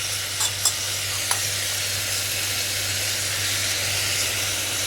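Chili powder and other spice masalas sizzle in a hot pan for a South Indian sprout curry, a steady bright frying hiss with a few brief clinks near the start and no voices.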